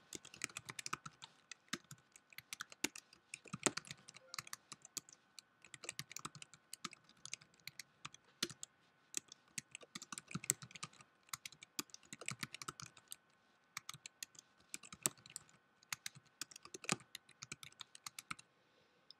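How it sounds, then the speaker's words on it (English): Steady, rapid typing on a computer keyboard, with irregular bursts of clicking keystrokes close by and no talking. "we can start typing those in here"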